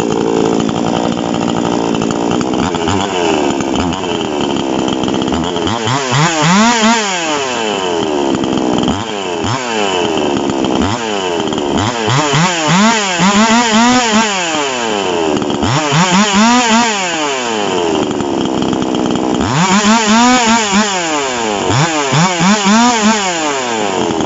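Taurus SK688i chainsaw engine running after carburetor tuning, a loud close steady idle with repeated revving surges that rise and fall every few seconds, no talk.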